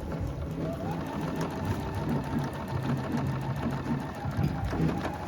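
A sewing machine runs steadily, stitching the bottom seam of a reversible bag in a continuous close-up whir with rapid needle rhythm throughout.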